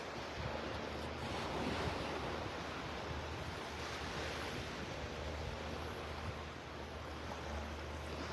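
Steady beach surf at Vanderbilt Beach in North Naples, with waves washing continuously and wind buffeting the microphone.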